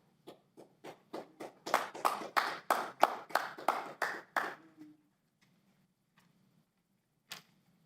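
One person claps at a county commissioners' board meeting: about a dozen distinct claps that start sparse and grow louder and quicker, then stop, with a single last clap after a few seconds of near silence.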